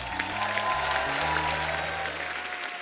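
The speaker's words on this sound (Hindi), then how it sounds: "चलो जी, जोरदार होनी चाहिए तालियां।" A studio audience at The Kapil Sharma Show breaks into sustained, dense applause, a steady even wash of clapping that holds at one level throughout.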